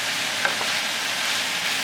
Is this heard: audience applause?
no